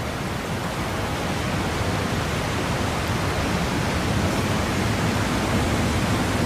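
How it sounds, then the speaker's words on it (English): A waterfall in the Forza Horizon 5 video game pours in a dense, unbroken hiss of rushing water, loud and steady throughout with no voices. "if you've never seen the Forza Horizon 5 waterfall,"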